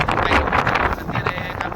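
Strong wind buffeting a microphone outdoors in a village, producing loud, rough, continuous rumbling gusts for under two seconds with no clear voice.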